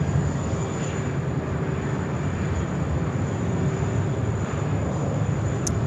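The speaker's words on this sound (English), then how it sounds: "the brand new Qantas A321XLR in town to start replacing the Boeing 737s" A brand new Qantas Airbus A321XLR passes at Sydney Airport with a loud, continuous jet engine roar, close and steady with deep rumble, no voices over it.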